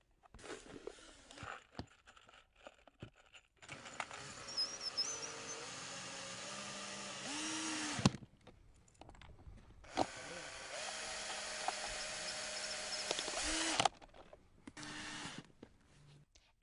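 Metal bolts driven into black mini golf course pieces with a power driver, heard as two long whirring runs with a rising pitch, close, separated by short pauses and handling knocks.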